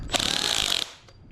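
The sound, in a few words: hammer drill skipping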